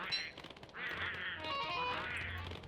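Gull-like birds marching in the video game Don't Starve, giving repeated nasal quacking calls up close over a low hum, with no talk.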